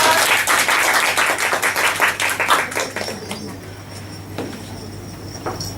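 An audience at a Toastmasters club meeting breaks into dense, loud applause that carries for a few seconds, then thins out and fades into quieter room noise with a few scattered claps.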